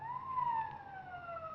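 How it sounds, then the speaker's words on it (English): A police car siren wails in a single long, slowly falling tone, moderately loud and fairly close, with a faint low hum beneath and no talking, set in a 1950 radio drama. "Police siren."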